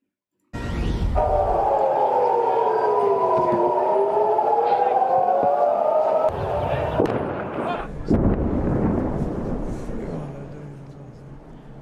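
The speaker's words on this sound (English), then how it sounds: "Warning sirens, and you can hear explosions in the background." A wailing siren rises and falls for several seconds, then heavy booming explosions and crackling bursts follow, loud and echoing in the distance.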